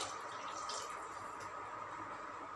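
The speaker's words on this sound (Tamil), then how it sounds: "6 உலக்கு தண்ணி ஊற்றிருக்கிறேன்." Water steadily pours into a cooking pot, six measures for tomato rice, making a continuous, even, close rushing-trickle with no talking.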